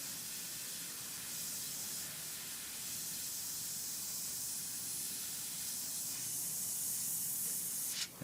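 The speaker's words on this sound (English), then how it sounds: "now I'm going to use the white airbrush paint that's thinned down, and I want to haze out the pupil" Thinned white airbrush paint hissing in a steady, close, quiet spray onto a maquette eye, continuous for several seconds before cutting off abruptly at the end.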